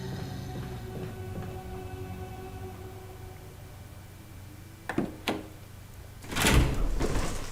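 Door opening in Resident Evil HD Remaster: a steady low hum, then two sharp mechanical knocks, and a heavier grinding swell as the door moves, close and fairly loud.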